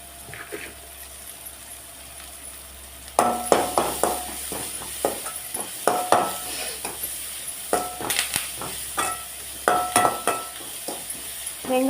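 Finely chopped onions with curry leaves fry in a pan while a spoon stirs and scrapes repeatedly, a faint sizzle under quiet clinks and taps that start after a few seconds.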